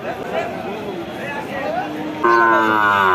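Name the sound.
bulls and cattle lowing at a cattle market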